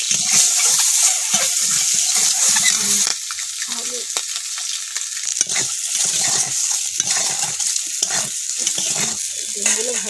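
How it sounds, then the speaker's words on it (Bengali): Eggs fry in a wok with a steady, close sizzle, while a utensil knocks and stirs against the pan at intervals. "ডিমগুলো ভাজা হয়ে গেছে কড়াই"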